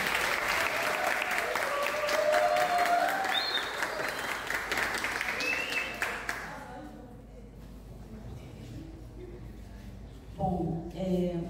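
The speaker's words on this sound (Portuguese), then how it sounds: "Uma salva de palmas para ela." A crowd at the SIMEDIVER 2024 Povos das Águas e das Florestas event claps loudly in sustained applause for an honored woman, which then fades away into quieter room sounds and a few stray noises.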